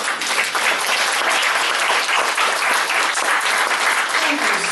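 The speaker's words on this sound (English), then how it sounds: "Please give her a round of applause." Sustained, enthusiastic clapping from an audience welcoming a speaker onto the stage at a talk, a thick steady wash of hands with a few voices faintly underneath.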